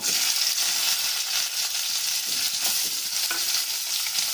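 Flat beans fry in about two spoons of hot mustard oil in a pan for Bengali shim vorta, giving a loud, continuous sizzle with occasional stirring scrapes and no talking.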